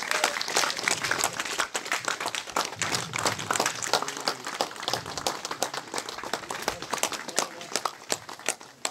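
Crowd applause at the inauguration of a ward office in Khandbari, continuous dense clapping sustained throughout at steady loudness, with no talk over it.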